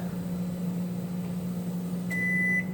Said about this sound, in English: Yep, 90 seconds in the microwave.